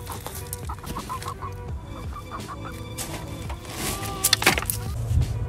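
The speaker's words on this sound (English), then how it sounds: "So I got 3 chickens in here." Three chickens scratching through dirt and grass in a garden bed give intermittent soft clucks near the microphone, mixed with rustling and a low background rumble.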